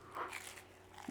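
A single crunchy bite into a homemade fish finger, a brief close crisp crunch at moderate volume with faint crackling, nothing else around it.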